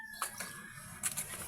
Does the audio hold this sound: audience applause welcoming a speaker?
no